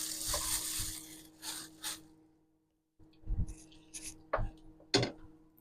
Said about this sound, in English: we're going to give that a good stir through